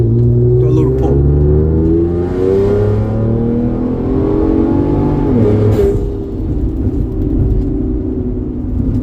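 A straight-piped Ford Explorer Sport revs hard through a pull, heard from inside the cabin with a loud, continuous engine roar that climbs and then dips around a downshift before rising again.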